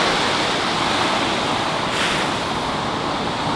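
Ocean surf washes onto a beach at sunrise, a steady broadband roar of waves with some wind buffeting the microphone, no voices.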